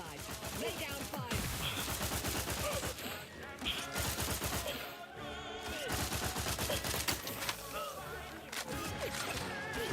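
Video-game gunfire volleys crack in rapid, dense bursts, many sharp shots clustered close together with short pauses between salvos, fairly loud and up front.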